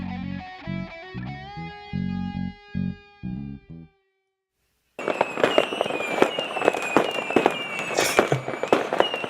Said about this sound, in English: I got some fireworks for the kids, so we're gonna some little things, Snakes and sparklers.